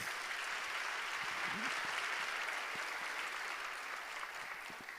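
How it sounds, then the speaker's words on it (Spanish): An audience applauds the cast at the opening ceremony of a world congress on children's talent, a dense, steady wash of clapping throughout that eases slightly toward the end. "Nuevamente, fuertes aplausos para el elenco"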